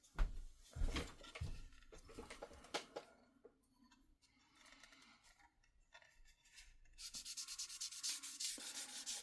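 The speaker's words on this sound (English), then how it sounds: "We're going to sand everything down." Sandpaper rubs over a plastic Entex 1959 Mercedes 300 SL model car body in quick, close scratchy strokes, with short pauses and a faster burst of rubbing near the end.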